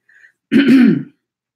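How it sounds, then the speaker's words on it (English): A single short, throaty cough or throat-clear bursts out close to the microphone after a brief faint tone, then silence. "I'm sorry for coughing"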